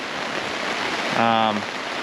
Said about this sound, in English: the storm's supposed to stop tonight at 8 o'clock